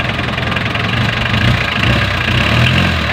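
An overheating car engine with a struggling starter idles steadily at close range, a low rumbling hum with a faint knocking rhythm running throughout.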